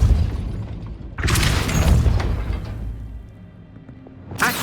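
Depulso spell cast in Hogwarts Legacy, a heavy booming magical blast that surges in after a quieter rumble, holds for about a second, fades, then a fresh burst hits at the end.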